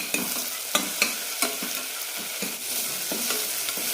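Tomatoes sautéing in a pan for a soya chunk salna curry, a steady close sizzle broken by several sharp scrapes and taps of a spoon stirring, with no talk.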